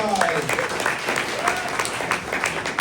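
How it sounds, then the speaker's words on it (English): An audience at a tech demo night applauds with dense, sustained clapping throughout, loud and close, with voices mixed into the crowd noise. "Round of applause for Vism AI."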